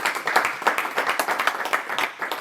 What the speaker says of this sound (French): on vous applaudit avec chaleur